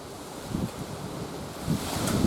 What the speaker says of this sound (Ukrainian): Це ж у нас такий вітер сьогодні